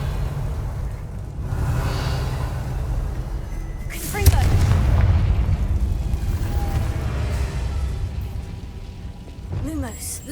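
Hogwarts Legacy video game: a Confringo blasting spell sets off a sudden explosive burst midway, then a rumbling tail, over continuous game ambience and effects.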